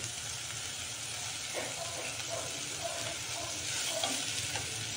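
Spices fry in hot oil with tomato and curry leaves during tempering for a dhemas dish, giving a soft, steady sizzle with occasional stirring scrapes, faint and fairly close.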